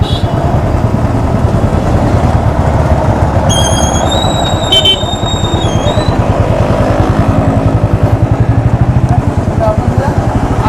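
A Royal Enfield Classic 350 (2016) motorcycle rides through a crowded Indian marketplace, its steady engine rumble loud and continuous throughout, with a brief whistle-like tone midway and busy street noise around it.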